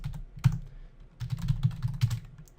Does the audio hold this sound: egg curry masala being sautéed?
no